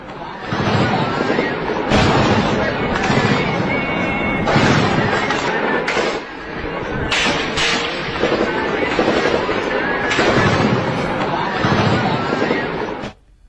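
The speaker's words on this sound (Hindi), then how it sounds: "यहाँ पर हिजबुल्लाह के लड़ाके और इजरायली डिफेंस फोर्स के जवान आमने सामने आ गए और यहाँ पर भारी गोलाबारी हुई है" Heavy gunfire and shelling during a battle between Hezbollah fighters and Israel Defense Forces troops: dense, continuous roar broken by repeated sharp blasts and bursts, loud and close throughout.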